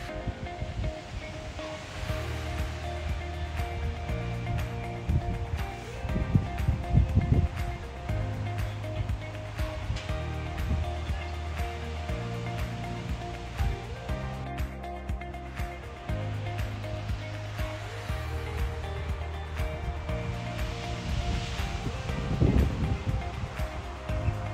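Sea waves at a hotel beach wash in a continuous, fairly loud surge, with a couple of stronger swells breaking nearby, and no voices over it.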